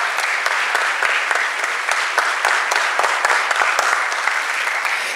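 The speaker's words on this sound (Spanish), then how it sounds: "Un fuerte aplauso" A hall audience applauding at a book presentation event, strong even clapping that holds steady throughout with sharp individual claps standing out from the crowd.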